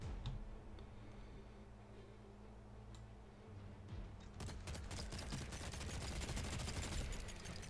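Rapid gunfire in an ARK Genesis 2 fight against a Voidwyrm, starting after a quieter stretch as a dense run of quick repeated shots, faint overall and without talk.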